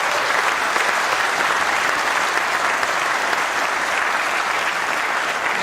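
Sustained applause from conference members at a Conservative Party conference hall, loud and steady throughout with no break or speech over it.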